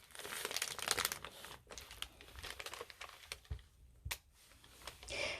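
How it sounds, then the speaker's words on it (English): Crinkly paper napkin being crumpled and handled in bursts of dry crackling and rustling, close and fairly quiet, with brief pauses between handfuls. "here I go with the crinkly paper. Makes a lot of noise"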